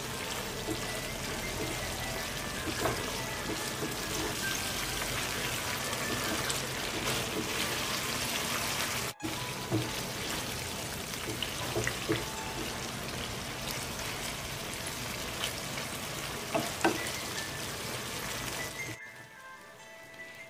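Paneer masala cooking under a lid in a pan, a steady bubbling and sizzling hiss throughout, close and fairly loud, with a brief break midway and a drop near the end.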